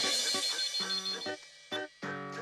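A telephone rings in short repeated bursts while someone calls a gift shop, the ring bright, close and insistent with brief gaps between trills.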